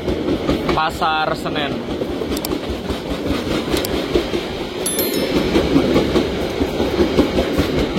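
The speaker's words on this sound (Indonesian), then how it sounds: "kita bersilang dengan kereta api Gumarang dari Surabaya Pasar Turi tujuan akhir" The Gumarang passenger train from Surabaya Pasar Turi runs past on the adjacent track, heard from aboard another train as a steady rumble with rhythmic wheel clatter. A voice speaks briefly over it.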